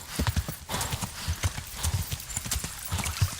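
Horse hooves clip-clop in a quick, uneven galloping rhythm in the video game Kingdom Come: Deliverance, close and clear, with occasional snorting breaths.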